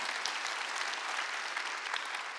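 A church congregation at a Wednesday worship service claps together in a steady, even roar of many hands, sustained throughout with no speech.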